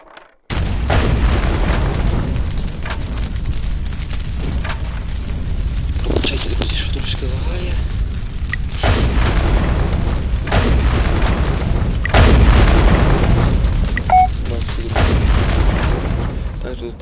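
In the physics game Ragdoll City Playground, a rocket strikes explosive barrels and sets off a run of loud, rumbling booms that continue back to back with heavy low-end roar.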